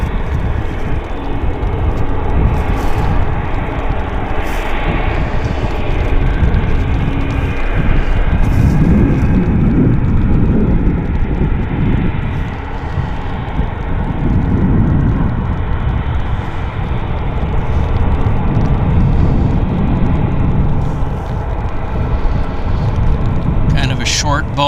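A Boeing airliner rolls on a wet runway at Vancouver International Airport (YVR), giving a steady, loud, broadband jet roar that swells and eases over time while people talk throughout.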